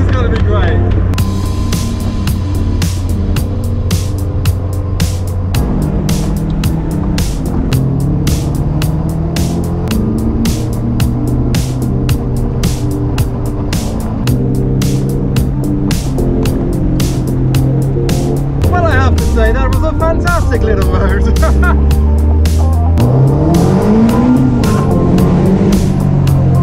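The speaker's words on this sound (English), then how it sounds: "we're just going to take the two Caterhams and go for a lovely drive" Two Caterham sports cars driving on a road, a steady engine drone with shifting pitch as revs rise and fall, heard from inside the car, with frequent clicks and rattles over the top.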